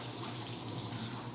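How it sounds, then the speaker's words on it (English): Hands are washed under a running kitchen tap, a steady, soft splashing stream of water that continues without pause and with no talk. "Let me wash my hands real quick."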